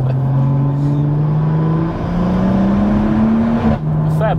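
A 700bhp manual BMW M140i engine revs loud and close, the pitch climbing and settling in sustained pulls, with a brief dip near the end.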